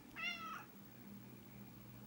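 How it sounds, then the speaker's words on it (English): A cat on a kitchen countertop gives one short, clear meow near the start, then only quiet room hum follows. "Oh, Kitty, you're not supposed to be on the countertop"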